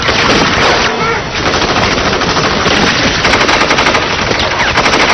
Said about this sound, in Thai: ฉันจะยิงคุ้มกันไม่ให้